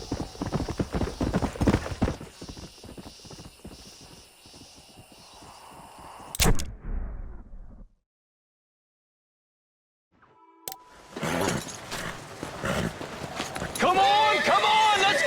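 Horse hooves clip-clop on a ranch in the Red Dead Redemption video game, a rhythmic trot under scored music and talk, cut off by a brief silence before the scene resumes.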